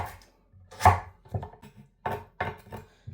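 A knife chops peeled fruit for a mixed fruit pickle into small pieces on a board, giving a string of close, sharp, irregular thuds with short quiet gaps between them.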